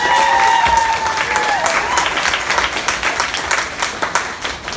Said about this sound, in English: Can we get a round of applause, please?